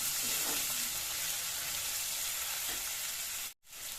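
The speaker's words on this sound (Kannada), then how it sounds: "ಈಗ ಟೊಮೆಟೊ ಹಾಕೋದನ್ನು ಚೆನ್ನಾಗಿ ಫ್ರೈ ಮಾಡ್ತೀವಿ" Onion, ginger, garlic and tomato sizzle steadily in a pan for a kitchen curry, a broad continuous fry with faint stirring, close and loud, cutting out briefly near the end.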